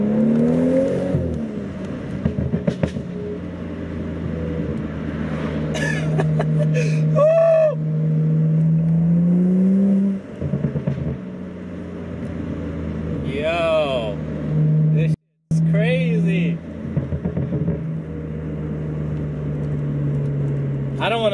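A BMW F30 with the N55 engine and an MHD Stage 2+ tune drones steadily under light throttle, pulling without being floored, with a voice talking over the engine note through most of the run.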